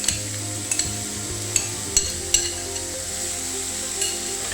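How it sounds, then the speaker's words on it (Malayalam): A banana blossom mixture with salt is stirred, and a low sizzle sits under several sharp clinks of a utensil against the pot at irregular intervals, close by, without speech. "പാകത്തിന് ഉപ്പ് കൂടി ചേർത്ത് കൊടുക്കുക. നന്നായിട്ടൊന്ന് മിക്സ് ചെയ്യുക."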